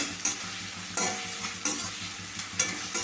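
Sliced onions and a green chilli frying in a pan for a cauliflower tomato dish, a steady close sizzle broken by a few stirring scrapes. No one speaks.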